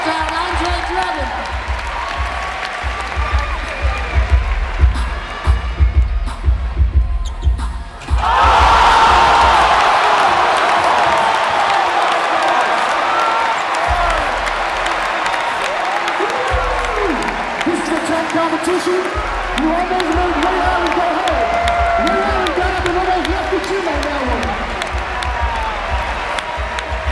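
A crowd at a college dunk contest roars with loud cheering, whoops and applause that surge suddenly and stay sustained, after a stretch of quieter crowd noise with voices.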